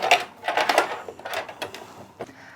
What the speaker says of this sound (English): I'm just going to keep flipping it around and sewing back and forth about 8 times